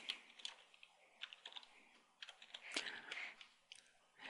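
Quick, irregular clatter of keys on a computer keyboard, soft and close, with bursts of taps and brief pauses while setting up a help desk entry.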